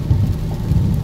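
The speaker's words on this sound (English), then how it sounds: "if you can hear, it's raining shitty outside" Heavy rain falls outside, a dense steady wash with low rumbling underneath, heard without talk.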